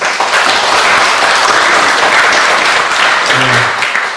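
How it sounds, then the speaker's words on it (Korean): A church congregation applauds after a choir's hymn during a worship service. The dense clapping is loud and close and sustained throughout. "박수 한번 치겠습니다."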